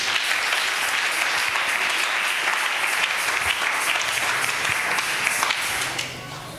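A church congregation breaks into loud, dense applause, a close, steady wash of many hands clapping that holds evenly before easing off abruptly near the end.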